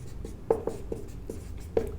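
A pen writing on paper while solving a class 10 maths problem on angles and equations, with short close scratchy strokes and small taps in an uneven rhythm, with no talking.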